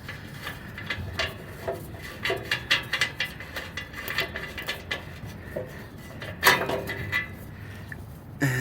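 Quick ratcheting clicks come in irregular bursts as an old O2 sensor is unscrewed from a 2009-2013 Toyota Corolla, close up with light metallic clatter between strokes.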